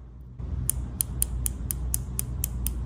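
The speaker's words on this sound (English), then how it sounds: "Let's see if you can hear the clicks on here." The turret dial on a Leupold VX-3HD rifle scope is turned through about nine crisp, evenly spaced clicks. The clicks are close and sharp against a quiet background, with no talking.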